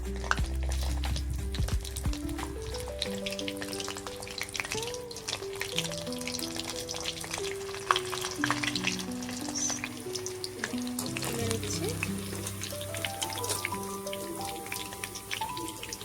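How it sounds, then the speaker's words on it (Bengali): Battered chicken pakora pieces fry a second time in very hot oil, giving a dense, continuous crackling sizzle close up with occasional stirring scrapes and soft music behind it. "এই একে চিকেনগুলোকে দ্বিতীয়বার আবার ফ্রাই করে নেব। এই চিকেনগুলো দিয়ে দিচ্ছি, এবার খুব হিটে একদম।"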